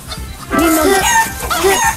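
A short burst of chicken clucking and squawking plays in an audio video game, several hens and a rooster close and loud over about two seconds.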